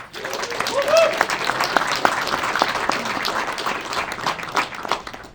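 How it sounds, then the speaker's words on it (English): Audience applause welcoming a speaker at a live conference event, sustained dense clapping from a crowd that swells early and gradually thins, with a few voices calling out. "a round of applause, please welcome our next speaker, Brendan Holmes."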